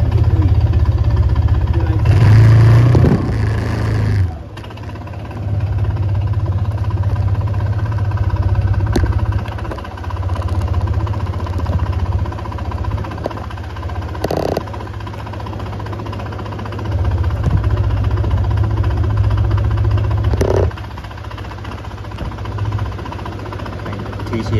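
Engine of a KRV180 belt-drive scooter during a test ride, a steady low droning hum with a brief louder rev burst near the start and small surges later; someone talks over it.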